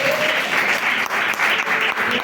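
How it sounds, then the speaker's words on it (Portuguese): A church congregation applauds in praise during a worship service, a steady dense wash of many hands clapping close and loud without pause. "Dá uma salva de palmas ao Senhor Jesus."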